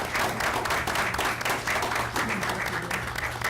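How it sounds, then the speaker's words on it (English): Steady applause from a crowd at a Mountainside, New Jersey council reorganization meeting, dense clapping sustained throughout at a strong level, with no voices on top. "It'll be the last time we're going to applaud you."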